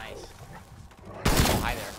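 Shotgun blast in Call of Duty: Cold War Zombies, a single loud, sharp report arriving partway through after quieter game ambience and talk, with a short decaying tail.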